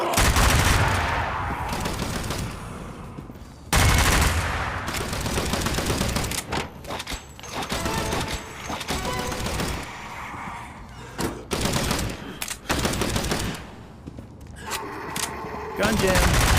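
Zombie Army video game gunfire, loud close rifle shots and bursts that start and stop abruptly, mixed with thuds and other game effects, with a weapon jam in play.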